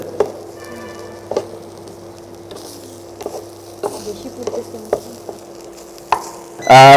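Dried fish (chepa shutki) is stirred together with onion in a pan with very little oil, giving scattered scraping and tapping knocks over a faint hum, ending in a loud burst.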